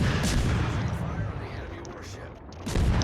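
Naval guns boom in a warship video game. There are a couple of heavy, rumbling blasts, with one at the start and another near the end, and a low roar between them. A voice talks over the firing.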